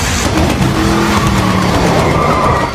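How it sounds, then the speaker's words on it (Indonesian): Race car in the Death Race 2008 film skids off the track, tires screeching and engine roaring loud and close for nearly three seconds, with no talk. "mobil Grimm tergelincir dan terlempar keluar jalur"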